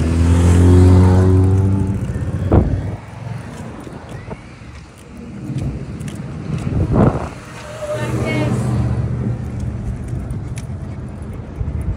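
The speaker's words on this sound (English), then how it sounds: "It's a yellow truck" A yellow truck rolls past during a walk beside the Missouri River, its engine noise swelling and fading over steady background rumble while people talk and laugh nearby.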